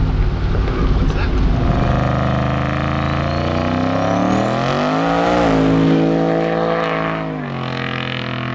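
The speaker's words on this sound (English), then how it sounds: "The truck rips, dude." A turbocharged GMC Sierra pickup accelerates hard, its engine note climbing steadily in pitch as it revs through the gears, loud and close with a heavy, continuous roar.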